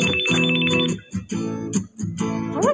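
A cellphone ringtone plays in repeated melodic bursts with short gaps, close and clear.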